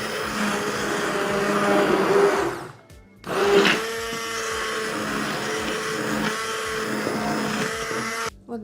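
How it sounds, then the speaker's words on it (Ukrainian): A blender chopping spinach whirs loudly and steadily, stops for a moment, then starts again and keeps running before cutting out at the end. "Зараз я його проб'ю блендером."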